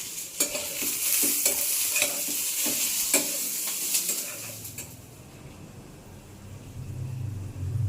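Leafy greens tossed in a pan, with rhythmic scraping and clinking strokes over a crackling sizzle for about five seconds, then a low hum as the stirring stops. Close and clear, no speech.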